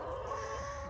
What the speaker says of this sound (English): These are my general hens.